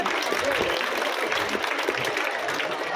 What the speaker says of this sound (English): Please encourage by clapping your hands